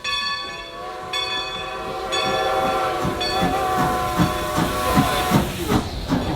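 A long-distance passenger train on its rails, a loud continuous rumble with a steady hiss and ringing tones that rise and fall, plus rhythmic clacks that grow stronger toward the end and no voices.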